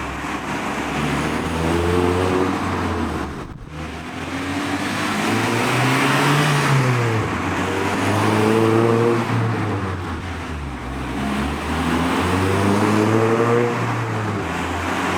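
Restored Honda DC2 coupe driving around a block, its engine revving up and easing off in repeated waves as it accelerates through gears, loud and close with road noise beneath, no voices.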